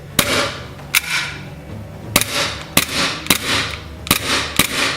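Airsoft gas pistol fired six times in an irregular rhythm, each shot a sharp, close snap followed by a brief hiss of released gas, with no talking.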